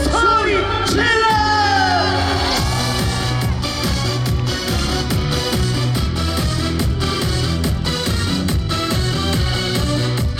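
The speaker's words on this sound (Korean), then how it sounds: "그럼 다 같이 소리 질러!" Festival crowd at a trot music stage show cheers and yells on the emcee's cue, loud and continuous, blended with a playing band and pumping beat.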